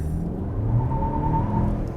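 A turbocharged 2019 Mazda CX-5 AWD SUV launches hard with traction control off, its engine droning loud and close as revs climb in a steady rising whine over low road rumble.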